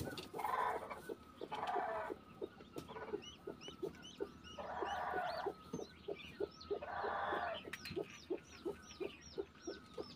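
Domestic chickens in a Nepali village cluck repeatedly and close by, short calls arriving in an uneven rhythm, with bursts of louder squawking layered over them and no talking.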